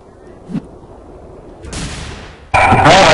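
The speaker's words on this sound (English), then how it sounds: "Oh, I hear him shooting!" Gunfire in the game Hidden comes as a rising burst, then a loud sustained barrage of shots that dominates the end.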